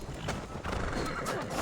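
A horse whinnies loudly amid hoof clatter and busy background noise, short and close, in the video game Assassin's Creed Valhalla.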